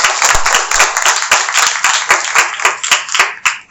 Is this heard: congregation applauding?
yes